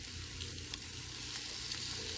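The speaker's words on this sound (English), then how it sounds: "So these are cooking slowly, but I wanted to see how I would like it on the grill." Kielbasa sausages sizzle slowly on a grill, a steady close crackle and hiss that runs unbroken.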